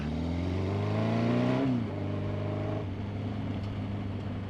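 A Scrambler motorcycle riding a dusty trail, its engine droning steadily up close, rising in pitch as it revs then dropping back to a lower, even cruise.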